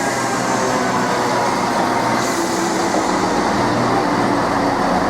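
A Greater Anglia Class 170 diesel train approaches with a loud, steady, close rumble and broad engine and rail roar that holds evenly throughout.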